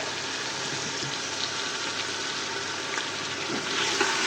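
Chicken pieces frying in a pan with onion, ginger and garlic for a chicken and bottle gourd curry, giving a steady close sizzle with light stirring scrapes and no talking.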